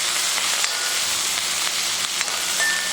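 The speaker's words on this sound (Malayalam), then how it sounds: "അങ്ങനെ ഉള്ളി ഒന്ന് താളിക്കാനുള്ള പരിപാടിയാണ്" Onion being tempered in hot oil, a constant close hissing sizzle with faint crackles and no break over a few seconds.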